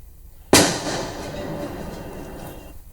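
A single sharp blast goes off as police destroy seized illegal firecrackers and other explosive material near a village. It is loud and sudden, then leaves a long, crackling, rumbling tail that fades over a couple of seconds.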